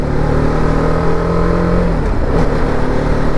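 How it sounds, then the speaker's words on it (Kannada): A motorcycle with jerky throttle response, engine braking and rev matching: a loud, close, continuous engine drone whose pitch sags and then lifts with a quick blip near the end, alone without voices. "ಅದು ಸಡನ್ನಾಗಿ ಜರ್ಕೊಡ್ಬಿಡುತ್ತೆ ಗಾಡಿ ಇಂಜಿನ್ ಬ್ರೇಕಿಂಗ್ ಮಾಡುವಾಗ"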